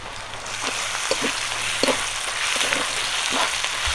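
Ginger and cumin paste hitting hot oil for a mutton curry, giving a steady close sizzle with occasional sharper crackles and stirring scrapes throughout, no voices.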